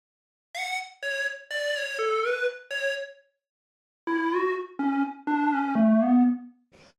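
A lo-fi house synth lead built from a square wave plays a short melodic phrase of bright, buzzy sustained notes with small pitch bends, alone, in two groups separated by a pause.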